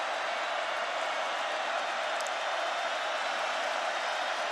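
Steady, dense roar of a stadium crowd at a Wake Forest vs NC State college football game, a continuous wash of distant voices with no distinct claps or cheers standing out.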